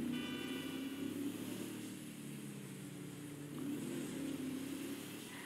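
A Ford Endeavour SUV driving in the GTA 5 video game: a faint, steady engine drone with a low rumble that swells slightly as it turns, heard alone.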